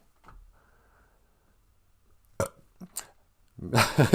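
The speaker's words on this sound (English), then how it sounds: "Sorry for the burp." A single close burp rings out in a quiet room, preceded by a few soft clicks and small mouth sounds.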